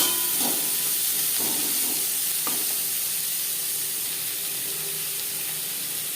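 Sliced onion hitting hot oil for a small mourola fish curry, a steady close hiss and sizzle with a few soft clinks and stirring touches early on, no voices.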